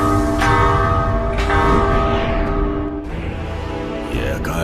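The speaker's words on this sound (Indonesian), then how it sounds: "Tak ada yang bisa untuk membunyikan lonceng tersebut." A heavy bell in a Chinese donghua animated fantasy film rings out in loud, resonant strikes, each leaving a long shimmering decay, with a softer clang near the end.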